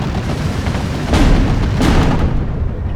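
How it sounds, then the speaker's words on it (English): Artillery shells boom in the World War II strategy game Steel Division 2, two heavy blasts about a second apart rising over a dense, continuous battle rumble. "My artillery is doing a lot of damage"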